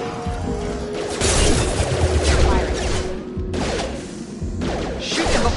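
Gunfire against mechs in the sci-fi shooter Mass Effect: dense volleys of rapid shots and crashing impacts, loud and near, come in bursts that drop out briefly before resuming.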